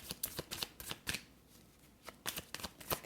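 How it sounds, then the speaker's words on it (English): Close, quiet riffling of a tarot deck being shuffled comes in rapid papery bursts, pauses for a moment, then starts again. "I'm going to try to pull another card"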